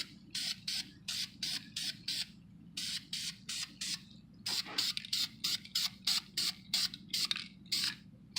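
An aerosol can sprays red paint onto brake calipers in repeated short bursts of hiss, about a second each with brief gaps, close and steady, with no talking.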